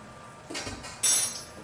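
Spoon scraping and clinking in a bowl as cornstarch is stirred into caramel, a soft rubbing scrape followed by a sharper, louder metallic clink near the end, close and brief with no talking.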